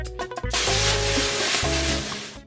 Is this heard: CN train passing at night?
no